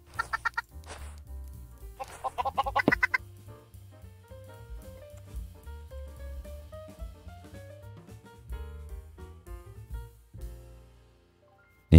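Chickens cluck in a Minecraft farm scene, several short bursts of clucking early on over soft game background music that drifts on after the birds quiet down.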